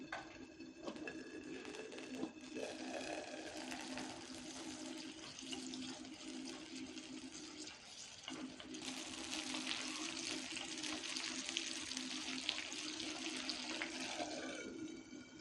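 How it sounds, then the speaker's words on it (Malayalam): Spices crackle and pop in hot oil for a dates and kanthari chilli pickle, a dense continuous sizzle with rapid fine popping throughout, close and steady with a brief dip midway. "നല്ല രീതിയിൽ പൊട്ടൽ നടക്കുന്നുണ്ട് അകത്ത്"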